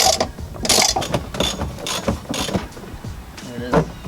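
Quick ratchet clicking in bursts while bolts are loosened on a Jeep Wrangler Unlimited side step, close and loud, with pauses between turns and some workshop noise.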